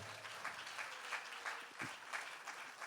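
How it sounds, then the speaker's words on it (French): An audience at an awards ceremony claps steadily, a moderately distant wash of applause that holds for a few seconds. "On acclame encore plus fort."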